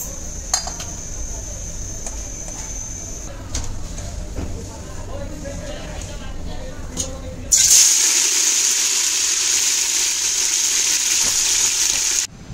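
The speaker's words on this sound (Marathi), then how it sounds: "कढीपत्ता, कांदा छान असा लाल रंगावर परतून घ्यायचा आहे तेलामध्ये." Curry leaves and onion dropped into hot coconut oil in a pan, bursting into a loud, steady hiss after light clinks and kitchen noise, with someone talking in the background.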